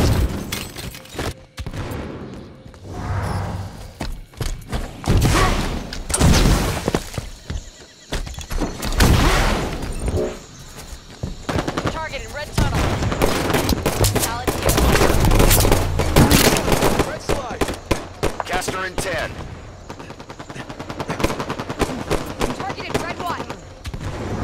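Rapid bursts of video game gunfire, with weapon fire and loud blasts crowding a busy battle scene that also carries voices and neighing horses, the shots dense and continuous throughout.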